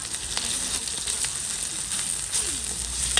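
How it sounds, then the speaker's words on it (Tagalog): Ground meat sizzling and frying in a hot pan, a dense, steady hiss and crackle close by, with occasional clinks and stirring sounds mixed in. "ilalagay ko na ang giniling"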